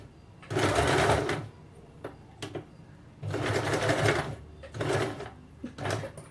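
A sewing machine stitches a salwar hem in close bursts, three longer runs and a few short ones separated by quiet pauses, with no talk over it.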